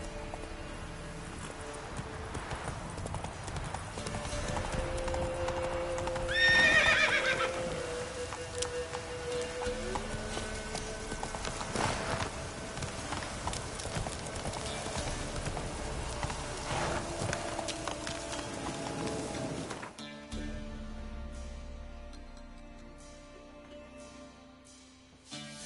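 Roach the horse galloping in The Witcher 3, with steady clip-clop hoofbeats and rustling over ambient background, easing into quieter surroundings near the end.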